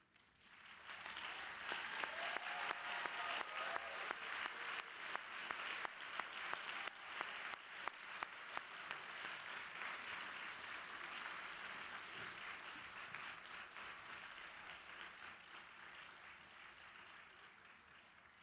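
Doctoral candidates and audience applaud family and friends at a PhD graduation ceremony, a large crowd clapping in a big hall, swelling quickly and holding steady before slowly tapering off over about eighteen seconds.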